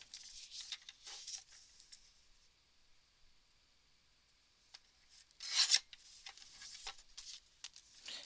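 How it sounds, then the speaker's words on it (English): Scissors cut a ridge off a handmade paper craft tag, producing quiet, close crisp snips and rasping rubs, with a louder burst of cutting near the end. "I'm just cutting that ridge off."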